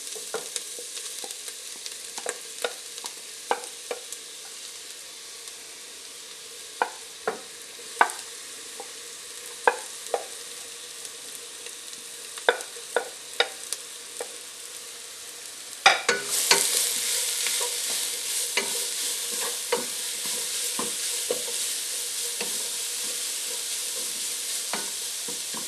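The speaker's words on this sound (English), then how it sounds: "A few teaspoons of olive oil, sweat some veggies. Let that warm up. Onions and carrots in first." Onions and carrots hit a pan of warm olive oil for a curry ramen, with light stirring clicks and taps at first. The loud, dense sizzle then jumps up and holds steady, close and continuous.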